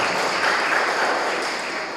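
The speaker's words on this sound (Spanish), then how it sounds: "Un aplauso fuerte para estos nuevos esposos, marido y mujer, para siempre." Wedding guests applaud the newly married couple after a church Mass in Ameyaltepec, a steady wash of clapping from a full crowd that stays even and dense for the whole stretch.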